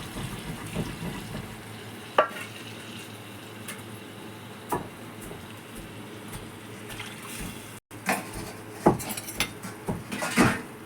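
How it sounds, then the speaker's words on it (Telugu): A spoon stirs fish curry in a metal pot, with repeated clinks and scrapes against the sides over soft bubbling, close and intermittent. "కొంచెం లైట్ ఇట్లా కలబెట్టుకోవాలి"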